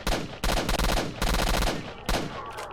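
Rapid automatic gunfire from a weapon in S.T.A.L.K.E.R. Shadow of Chernobyl, loud and close, fired in three or four sustained bursts separated by brief gaps.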